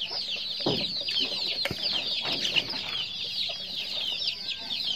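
Hens cluck and chatter together in a busy flock on a poultry farm, fairly soft and nearby, with no voices.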